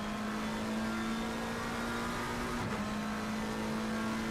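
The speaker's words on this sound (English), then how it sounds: "The acceleration of that Mustang is just something else" A Mustang race car in a racing sim video game accelerates with a steady, droning engine roar, a continuous mid-pitched tone with a brief dip partway through, heard alone at moderate level.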